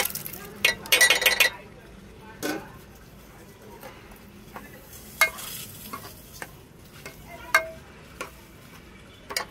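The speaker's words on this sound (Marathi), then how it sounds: "आता त्याच्यामध्ये शिजलेली मटकी टाकून देते।" Cooked moth beans tipped into hot oil in a home kitchen pan, with a quick burst of clinking and scraping, then sparse spoon taps and stirring clicks over a faint low sizzle, close and moderately loud.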